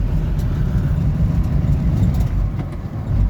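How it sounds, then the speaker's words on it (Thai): A garbage truck's engine runs with a steady low rumble that fills the scene, close and loud, with a constant droning texture and no speech over it. "รถขยะเพิ่นนะครับ"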